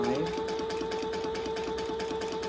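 A sewing machine runs continuously, stitching a bag at stitch length 4, its needle knocking in a fast, even rhythm over a steady motor whine, close and clear.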